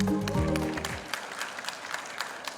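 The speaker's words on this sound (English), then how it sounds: "One big round of applause for Ecotourism Bali for leading a sustainable tourism in Bali" Audience applause at an eco tourism week event in Bali begins as closing music fades out, then continues as scattered, moderately loud clapping.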